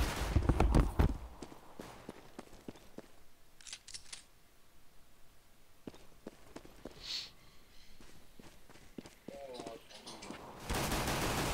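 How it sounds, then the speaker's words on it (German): Rapid bursts of gunfire in CS:GO crackle in quick clusters, sharp and close, with quieter gaps between volleys and a louder steady noise at the end. "Paul, ich glaube, ich habe einmal auf dich geschossen."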